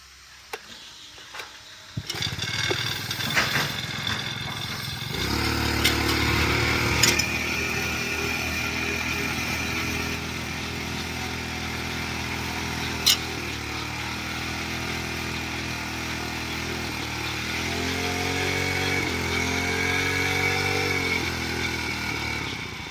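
A five-row paddy weeder's small engine starts up and runs steadily and loud, with a rough mechanical clatter and a slight rise in pitch toward the end, no talk over it.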